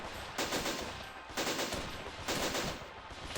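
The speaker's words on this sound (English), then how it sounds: "We've got a machine gun right here. 2 machine guns right here." Machine guns in the war game Army Men of War fire in rapid bursts amid a winter field battle, dense rattling volleys pulsing roughly once a second, loud and continuous with no voices.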